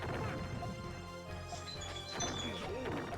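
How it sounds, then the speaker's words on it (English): Glass smashing on a floor inside the Puyo Puyo 15th Anniversary puzzle game, a loud crash with scattered bright shards over steady game music, repeating across the short span. "by the sounds of it, a glass object was swiftly applied to the floor"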